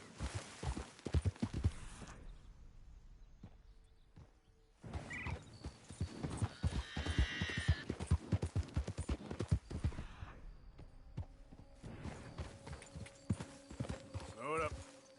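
Horse hooves clip-clop in a steady trotting rhythm in Red Dead Redemption 2, fading briefly then returning, with people talking over them and a faint whinny.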